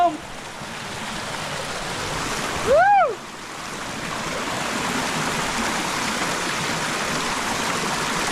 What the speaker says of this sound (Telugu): మనకైతే ఫారెస్ట్ లో జలపాతం